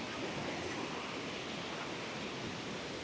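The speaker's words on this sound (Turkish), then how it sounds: "Her yerden maşallah su fışkırıyor gördüğünüz gibi." Water gushes and flows out of the mountainsides at Levent Valley in Malatya, Turkey, a steady dense outdoor rush with no pauses, loud and constant throughout.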